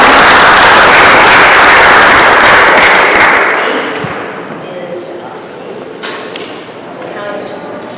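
Audience clapping at a school spelling bee, a dense burst of applause that fades out over a few seconds into quieter room noise.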